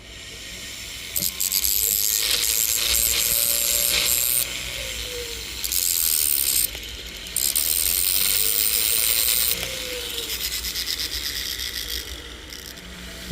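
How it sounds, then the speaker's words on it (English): A gold ring being sized, its sides worked with a metal file: close, steady rasping scrapes in long runs, broken by brief pauses and small metallic clicks. "we're going to file these sides"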